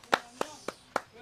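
Four sharp hand claps at a village elders' singing contest in Wonju, evenly spaced and close, fairly soft, with a brief trailing tap at the end.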